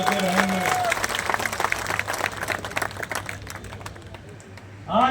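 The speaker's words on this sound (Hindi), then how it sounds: "1 नंबर पर आना है तो जोरदार ताली बजाओ" A large crowd at a Lok Sabha nomination rally in Rajsamand claps hard and continuously, a busy crackle of many hands with brief amplified voices at the start and end.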